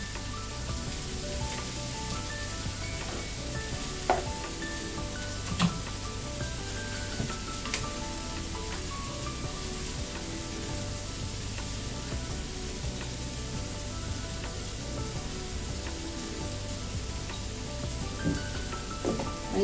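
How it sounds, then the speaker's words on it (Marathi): Tomatoes frying in a pan with onions already browned, salt added, giving a steady broad sizzle that runs throughout with faint occasional clinks and stirring, close and continuous with no talk. "आता कांदा चांगला ब्राऊन कलर वरती भाजल्यानंतर आपण घालणार आहोत टोमॅटो"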